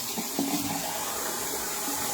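Hot water runs steadily from a tap into a sink before a shave, a continuous broadband splashing wash with a brief clink near the start.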